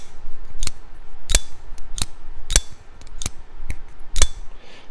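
Button lock pocket knife with thick blade, liners and milling, its blade snapping open and shut seven times in sharp, crisp metallic clicks spaced about every half second, close and loud over faint background noise.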